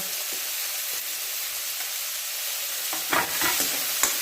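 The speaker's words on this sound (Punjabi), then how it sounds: "ਨਾਲ ਐਡ ਕਰ ਦਵਾਂਗੇ ਆਪਾਂ ਅਦਰਕ ਤੇ ਹੁਣ ਮਾੜਾ ਜਿਹਾ ਹਲਕਾ ਜਿਹਾ ਹਲਾ ਦਵਾਂਗੇ" Ginger and onion frying in a hot pan while being stirred, a steady bright sizzle with a few soft scraping knocks of the spoon near the end.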